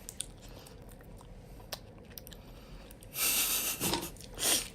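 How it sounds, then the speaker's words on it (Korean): Loud, close chewing and munching of a sandwich, with wet crunchy bites building into dense bursts toward the end after a quiet stretch with small mouth sounds and breaths. "쩝쩝 소리 안 낼게."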